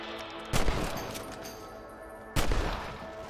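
Two sharp, loud gunshots from rabbit hunting in Red Dead Redemption, spaced about two seconds apart, each followed by a ringing decay.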